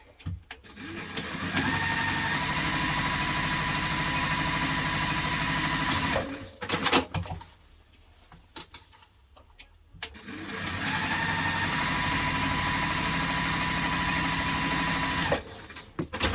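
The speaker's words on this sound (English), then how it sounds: "And then open it and then just top stitch down" A sewing machine top stitches a hipster bag in two long, steady runs of even whirring, broken by a short pause in the middle, close and fairly loud with no talking.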